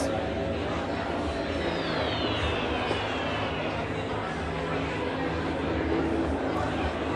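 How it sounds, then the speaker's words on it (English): Air raid bomber aircraft droning over the Iwo Jima battlefield in Battlefield 1943, a steady engine roar with a faint descending whine, under constant distant battle noise and crowd-like chatter. "that's the air raid bomber"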